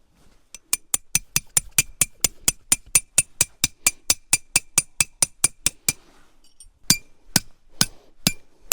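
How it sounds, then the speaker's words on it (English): A small hammer drives tent stakes into rocky ground at a winter campsite: a fast, even run of about twenty sharp metallic strikes, then a pause and a few slower, heavier blows, close and crisp. "driving these stakes into the ground with that hammer is not."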